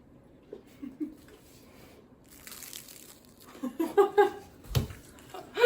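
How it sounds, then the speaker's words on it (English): Crisp crunches from someone biting and chewing pretzels close up, coming in a quick cluster after a quiet stretch, with faint voice sounds nearby. "That crunch."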